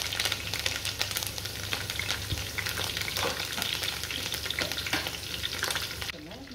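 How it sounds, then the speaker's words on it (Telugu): Whole spices and curry leaves fry in hot oil for a chole masala curry, a steady dense crackling sizzle with scattered sharp pops, close and loud throughout before easing slightly at the very end. "ఆయిల్ వేడైన తర్వాత అందులో వేసుకొని వేయించుకోవాలి"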